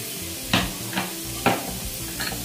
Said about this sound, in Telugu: రైస్లో వేసి ఒకసారి తిప్పేద్దాం.